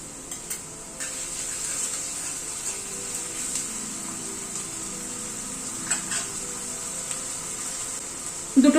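Garlic and onion frying together in a pan, a steady soft sizzle running throughout with occasional stirring clinks and scrapes, close and moderately loud, no voices.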